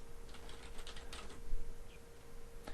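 Fast typing on a computer keyboard, a quick run of light clicking keystrokes, close and quiet, over a faint steady hum.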